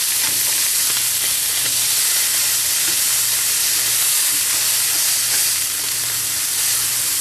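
Burger patty frying in a pan over medium-high heat, a loud steady sizzle and crackling hiss that carries on without a break and with no voices.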